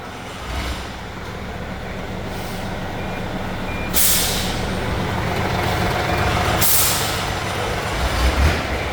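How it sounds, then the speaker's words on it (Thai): Air brakes on a truck hiss in two sharp bursts under a steady low engine rumble, loud and close, with no one talking. "เดี๋ยวพาลองเหยียบเบรกดู"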